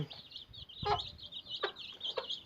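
A mother hen with fifteen chicks clucks in short, close, repeated calls, with faint chick peeps and farmyard ambience in between.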